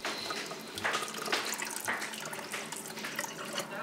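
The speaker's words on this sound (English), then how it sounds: "clean them in the sieve under running water" Tap water runs over eggplant seeds in a sieve, a close, continuous splashing and trickling stream with small irregular spatters, heard alone without talk.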